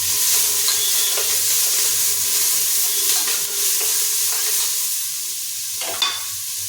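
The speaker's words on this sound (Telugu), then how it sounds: "ఇప్పుడు ఉల్లిపాయలు ఇవన్నీ ఒకేసారి వేయచ్చు." Onions fry in a pan of AMC cookware for mutton curry, a constant close sizzle broken by scraping stirs of a utensil now and then.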